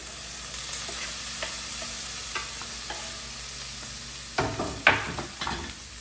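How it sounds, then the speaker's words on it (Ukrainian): Peppers frying in a pan with garlic and onion make a steady close sizzle, broken near the end by a few louder stirring scrapes, with no voices. "чесничок з цибулькою вже трішки підсмажились. Я додаю зараз сюди перчик."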